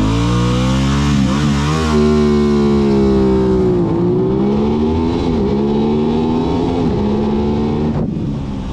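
An Aprilia RS 660 sport motorcycle engine revs and accelerates, loud and close, its pitch climbing through repeated gear-like rises and dips before easing off at the end, with no talking.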